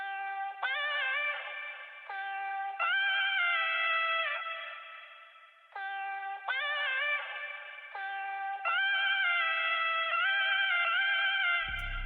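A bright arcade-style synth patch in FL Studio plays a repeating two-note pattern with a chopped variation, clean, sustained tones stepping between pitches over washy reverb, alone with no other sounds until a brief click at the end.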